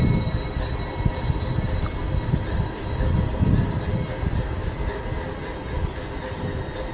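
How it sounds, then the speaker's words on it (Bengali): A CRS special train pulls into Jayrambati railway station, a steady low rumble of rolling wagons and track noise close by, continuous throughout with no talk. "জয়রামবাটি রেল স্টেশনে এই মুহূর্তে ঢুকছে সিআরএস স্পেশাল ট্রেন"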